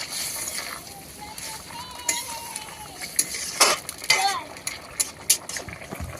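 Chicken and potato curry in a pot being stirred, with wet scraping and clinking of a utensil against the pot in short irregular bursts, a soft bubbling underneath and a voice murmuring in the background.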